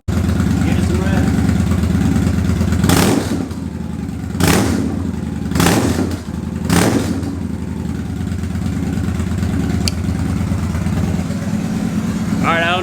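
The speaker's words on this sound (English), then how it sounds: "Let the bike warm up and then we'll give it some rest." A Victory Highball motorcycle engine idles steadily as it warms up, with a low continuous rumble broken by several short revs.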